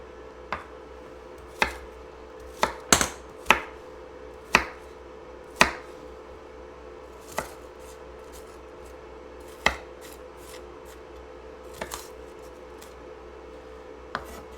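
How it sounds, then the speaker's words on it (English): A knife dices onions on a cutting board for potato curry: about a dozen sharp, irregular chops, some in quick pairs, ring out over a low steady hum, with no voices. "Almost done cutting the onions here."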